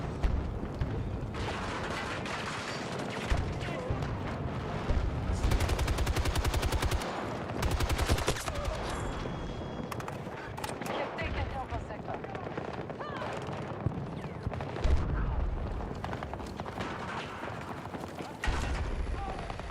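Rapid assault rifle bursts crackle in a video game, sharp repeated automatic fire in clusters with mechanical clicks between them, while a voice talks over much of the action.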